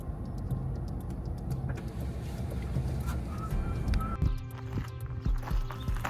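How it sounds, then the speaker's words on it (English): Pickup truck towing a camper trailer rolls slowly onto a CAT scale, a steady low engine rumble and tire noise throughout with some clunks and knocks, close and moderately loud. "pulling up for weigh number 2. This one has the truck and the trailer."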